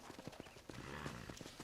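Rapid hoof clip-clops of a horse on a hard surface in Red Dead Redemption, close and steady, with a brief whinny-like sound in the middle.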